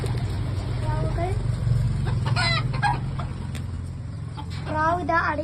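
Chickens cluck in a backyard coop with pigeons kept alongside, several calls rising over a steady low hum while a person talks nearby.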